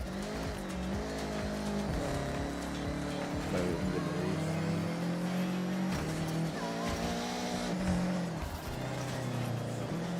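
Subaru WRX, an all-wheel-drive car, breaking traction in Forza Horizon, with loud, sustained tire squeal and skidding over a steady engine drone, pitch shifting as the car slides through corners.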